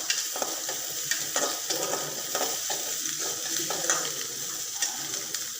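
Onions fry in a pan for a Chicken Manchurian, a continuous soft sizzle broken by repeated scraping strokes of a utensil stirring them, close and fairly quiet with no talk.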